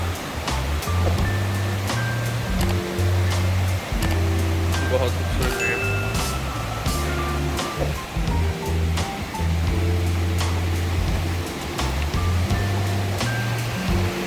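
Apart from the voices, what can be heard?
flowing water at Triple Falls, North Carolina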